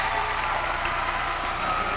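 A crowd at a 1991 men's college volleyball match against Ohio State applauds a big block, steady clapping and cheering filling the hall at an even level throughout.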